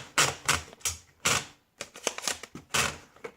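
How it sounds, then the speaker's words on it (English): A 1977 Olympia SF DeLuxe ultraportable typewriter with a new ribbon clacks through a type test, sharp close keystrikes in irregular bursts with a brief pause midway, no voices. "little type test. 1977 Olympia SF DeLuxe"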